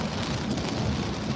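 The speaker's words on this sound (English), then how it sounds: "it is raining cats and dogs" Heavy rain pounding steadily on a car while driving home, a dense, even wash of noise that fills the whole short stretch with no pauses and no voices.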